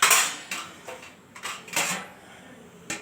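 Potato masala being stirred in a metal pot and then covered with a lid, giving a few close clanks and scrapes of a spoon against metal, ending with a lid knock.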